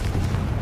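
A Confringo spell blast in a video game lands as a dense, continuous explosive roar with a heavy low rumble, loud and filling the moment.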